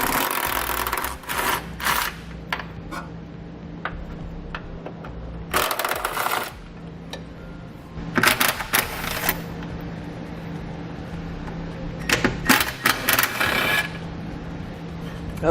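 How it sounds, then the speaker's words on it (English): Ratchet with an 18mm socket clicking in short bursts while loosening tow hook bolts on the frame of a 2013 Nissan Rogue, several quick ratcheting runs separated by pauses, close and fairly loud. "We're going to be using an 18mm socket to remove these 2 bolts."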